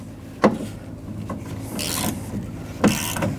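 A 10mm socket works on bolts inside a Dodge Dakota door: two sharp metallic clicks a couple of seconds apart, with soft ratcheting and rubbing scrapes in between, close and otherwise quiet.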